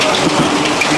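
Heavy rain pours steadily at a Tiruvannamalai outdoor food-offering gathering for sadhus, a dense continuous wash of falling water filling the whole second with no break or talk.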